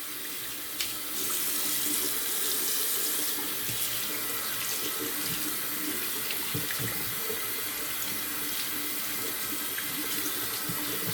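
A tap runs steadily into a sink to rinse out a shaving bowl, a continuous close gush of water with faint clinks, no voices.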